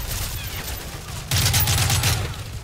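Mod gun firing in Call of Duty Mobile: a rapid, loud stream of automatic shots kicks in about halfway through, following a quieter stretch of background game noise.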